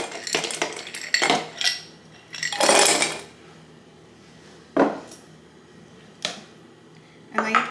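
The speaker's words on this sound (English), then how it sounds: "You're going to add ice to these as well." Ice cubes clatter and clink into drinking glasses in several separate bursts, sharp, close and bright, with quiet gaps between the drops.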